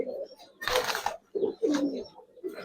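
Giribaz high-flyer pigeons coo in soft, low repeated calls at a pigeon market, broken by a brief, sharp, noisy burst partway through.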